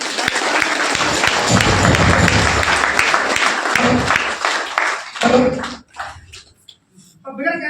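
Loud applause and cheering from an audience at a motivational business talk, a dense clapping roar that breaks off partway through as speech takes over.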